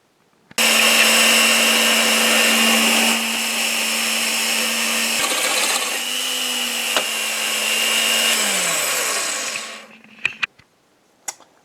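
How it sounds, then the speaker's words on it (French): A power drill with a 35 mm wood bit boring out a hole, a loud continuous whine that holds steady, dips briefly as the bit bites, then winds down, followed by a few clicks and knocks. "Avec une mèche à bois de 35, je vais maintenant évider le trou que j'ai commencé à réaliser."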